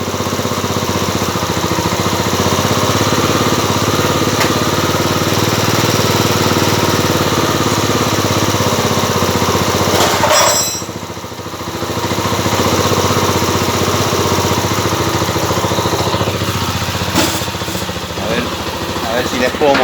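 A Gilera YL 200 motorcycle engine, just started after sitting unused for a while, idles steadily as it warms up, a close, continuous putter that dips briefly partway through before settling back.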